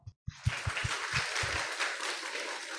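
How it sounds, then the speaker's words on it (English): Conference audience at a recovery college symposium in Hong Kong breaking into a brief round of applause, a few sharp claps swelling into dense clapping that lasts about two seconds before dying away. "Let's give him a round of applause."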